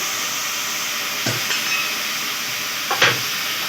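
Taro stolons sizzle in hot oil in a wok, a constant broad hiss with a few scraping stirs and a louder clatter near the end, and no one speaking.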